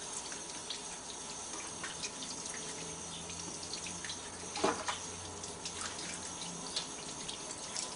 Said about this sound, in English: Now I have to turn on the water a little bit. We'll keep that running for a little bit.